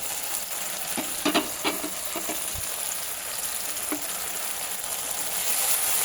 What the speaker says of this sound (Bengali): নুন দিয়ে একটু হালকা করে নেড়ে টমেটোটা আমি গলিয়ে নেব